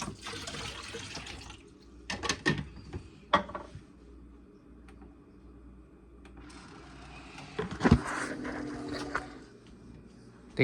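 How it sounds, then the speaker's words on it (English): Water running from a tap in bursts, with splashing and a few clinks between pauses, close and fairly quiet. "Right, I need to add water."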